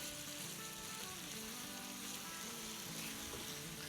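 Chicken salan masala of yogurt, tomato and fried onion cooking in hot oil, a steady close sizzle and crackle running unbroken throughout with no talking.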